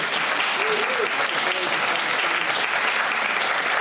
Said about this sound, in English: So if we can just give them a nice big round of applause.